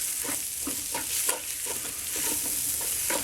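Tomato paste sizzles and fries in a pan while it is stirred for a ragu sauce, a steady close crackle broken by rhythmic scraping strokes of a utensil, with no talking.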